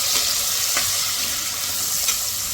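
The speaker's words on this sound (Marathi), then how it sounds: "ह्याच्यात आपण आता मटर टाकूया आणि परत एकदा मिक्स करून घेऊया." Peas dropped into a hot pan of oil and stirred for kadhi khichdi, giving a loud, steady close-up sizzle with a few faint scraping stirs.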